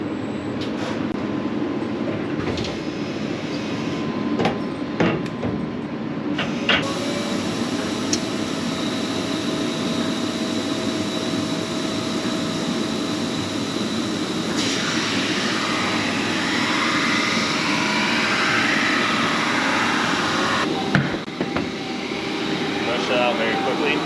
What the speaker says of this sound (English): we're gonna set up the machine and get them grinding